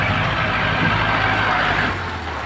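A tractor plowing a rice field: a steady, droning engine with a constant mid-range rumble throughout, close and loud, easing slightly in the final half second.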